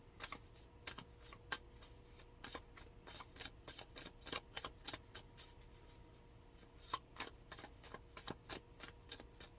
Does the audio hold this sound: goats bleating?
no